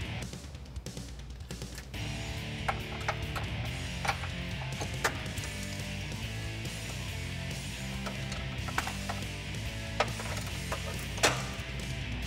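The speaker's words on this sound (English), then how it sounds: "you will need to use a hand ratchet for the inside bolts" Hand ratchet turning the inside fog light bolts on a Jeep Wrangler JK during a fog light install, giving steady mechanical clicking with a few sharper clacks over continuous background noise.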